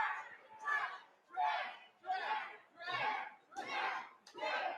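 Crowd at a Thanksgiving wrestling event cheering in rhythmic surging waves, about seven swells of shouting and chanting in roughly five seconds, loud and close throughout.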